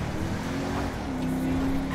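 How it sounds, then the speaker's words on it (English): A car engine hums and revs steadily while driving in GTA 5, with a rising tone partway through, moderately loud and continuous with no talk. "this car's fun to drive"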